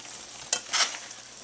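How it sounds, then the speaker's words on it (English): Shrimp being stirred into a creamy roasted red pepper sauce in a pan, giving two short scraping swishes with a soft sizzle underneath, close and moderately loud. "now I'm going to just mix them in there"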